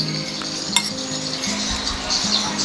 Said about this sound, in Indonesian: Kita langsung aduk merata dengan mie-nya